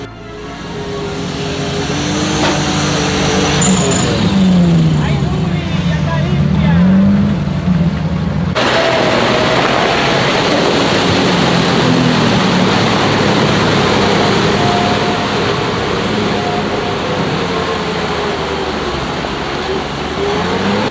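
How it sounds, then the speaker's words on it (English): An off-road rig's engine roars loudly and continuously as its tires spin and churn through deep mud, with revs rising and falling and a sudden shift in tone partway through. "watching those tires spin like crazy and the rig plow through that slop is pure adrenaline fuel"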